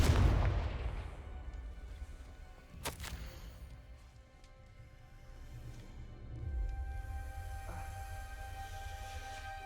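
A Confringo fire spell explodes in the video game Hogwarts Legacy with a booming blast right at the start, followed by a sharp crack a few seconds later and a low rumbling tail under the game ambience.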